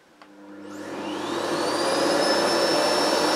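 A Miele Blizzard CX1 Comfort Powerline bagless vacuum cleaner starting up and ramping to maximum power, a steady rising whine and whoosh that settles into a loud constant roar with high tonal hum.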